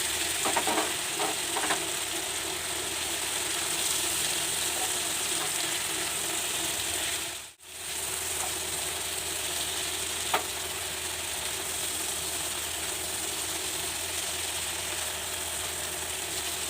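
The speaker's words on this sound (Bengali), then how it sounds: "এবার আমি কুমড়ো আর আলু ভাজাটা দিয়ে দিচ্ছি।" Fried pumpkin and potato pieces go into a pan of cooked-down spices and fried peanuts for kumror chokka, a Bengali pumpkin curry. A steady close sizzle runs under continuous stirring and scraping, with one brief dropout partway through.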